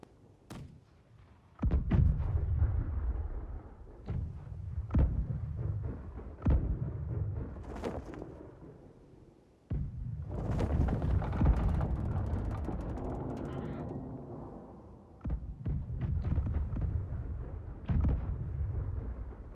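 Ship cannons firing a broadside in Blackwake: a series of heavy booming shots spaced a second or two apart, with rumbling, clattering stretches between them as the volley rolls on for most of twenty seconds.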